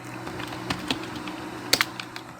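Close keystrokes on a computer keyboard while HTML and CSS code is being written. The taps are sparse and irregular, then a quick cluster near the end, with no voice.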